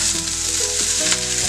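Thin-cut potatoes fry in hot oil with a dense, continuous sizzle and crackle, close and loud throughout, with no talking.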